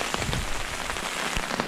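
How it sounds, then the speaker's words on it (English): Pouring rain drums on surfaces at a mountain camp in the Yukon wilderness, a dense, close, continuous patter with scattered heavier drops and no voices. "it's pouring rain."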